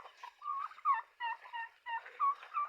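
Newly hatched chicks chirp in quick, high, bright peeps, several calls overlapping in short bursts at close range with no talk.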